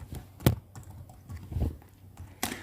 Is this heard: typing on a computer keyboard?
yes